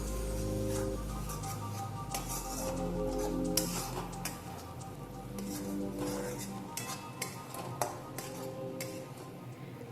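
A spoon stirs and clinks in a cooking pot as a mustard, poppy seed and green chilli paste is worked into borir jhal, a Bengali dish; the scraping and tapping are soft and irregular over a low background hum.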